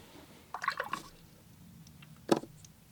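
A paintbrush dipped into clear water for a watercolour sky wash, soft faint splashing and dripping in two short bursts, alone in a quiet room.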